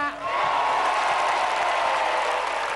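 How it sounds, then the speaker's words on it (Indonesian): A studio audience applauds at a television game show, a dense, sustained wash of clapping and crowd noise that holds loud and even throughout. "Tepuk tangannya mana?"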